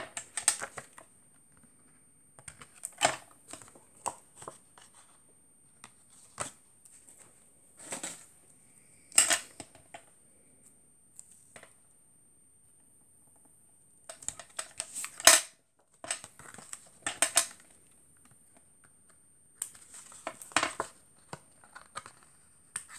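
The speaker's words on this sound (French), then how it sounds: "Je viens coller du double face" Double-sided tape being applied to a handmade card, heard as faint, scattered clicks, taps and short crinkling rustles in otherwise quiet surroundings.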